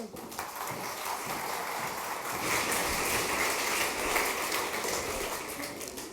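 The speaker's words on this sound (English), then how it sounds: "So please give Dan a very big applause so that he can make his parents proud" Audience applause at an evening talk event as the first speaker is welcomed, a steady dense wash of clapping held at an even level throughout, with no speech over it.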